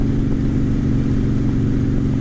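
Harley-Davidson Sportster motorcycle engine droning steadily while riding, a low rumbling note with wind noise, close and constant with no talk.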